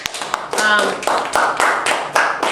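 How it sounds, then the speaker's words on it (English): A short burst of close hand clapping, a handful of claps at an uneven rhythm, loud and near. "give him a round of applause"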